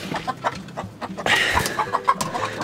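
Chickens cluck inside a coop, a run of short close clucks and squawks that grows busier and louder partway through, with no talking.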